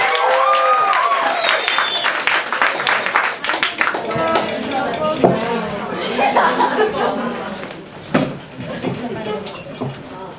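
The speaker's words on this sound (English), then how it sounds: "can we get a big round of applause for Cindy Bradley?" An audience at an open mic night claps and applauds, mixed with chatter and some laughter, sustained throughout at close, lively volume.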